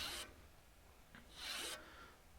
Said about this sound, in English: That's just a handheld knife sharpener.